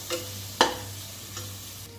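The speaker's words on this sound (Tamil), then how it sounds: "மல்லி இலை வந்து நல்லா வதங்கி சுருங்கி நல்லா வதங்கி போகிற அளவுக்கு நல்லா வதக்கிக்கலாம்" Coriander leaves sauté in a pan for a Chettinad chicken kuzhambu, a low steady sizzle with a couple of quick scraping stirs of the spoon, close and moderately quiet.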